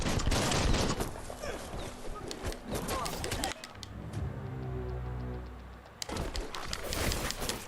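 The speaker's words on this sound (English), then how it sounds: "Bullets everywhere." Gunfire erupts in the video game Biomutant, with a loud, dense clatter of shots and impacts for several seconds, a brief lull filled by a tonal hum, then the rapid firing resumes just as heavily.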